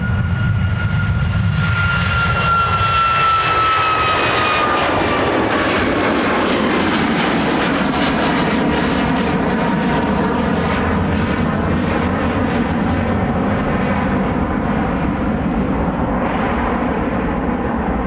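A KLM jet airliner sits lined up for departure at Dublin Airport, its engines giving a steady, loud roar with a high whine that fades early on, continuous throughout with no talk.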